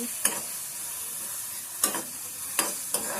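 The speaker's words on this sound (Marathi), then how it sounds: "नुसतं ना कांदो घालून घ्यायचो आणि तो ना असं परतून घ्यायचो" Onion sautéing in a pan during Konkan village cooking: a steady, close sizzling hiss broken by a few sharp scrapes and knocks of stirring.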